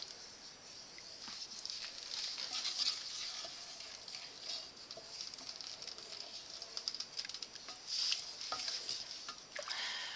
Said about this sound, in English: we're stirring right along